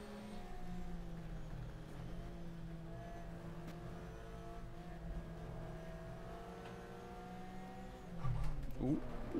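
Race car engine in the video game GTR2 during a 2003 FIA GT season race at Magny-Cours, France, a steady droning engine note that holds, then revs and shifts abruptly near the end.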